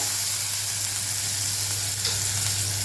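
Ginger and garlic fry with lentils in a pan for Karaikudi kara chutney, an even, continuous sizzle close up, alone.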